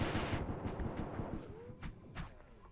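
Rapid bursts of gunfire in the game Space Station 14 during a nuclear operative round, sharp shots with decaying echoes, fairly quiet and without voices.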